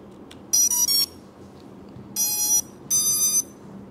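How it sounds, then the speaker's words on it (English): An FPV drone, a FlyFish RC Volador VX3 build, plays its startup beeps as the battery is plugged in: three bursts of bright electronic tones, one short and two longer, loud and close over a quiet room. "I'm ready to plug this on and see if we can listen to that do-do-do."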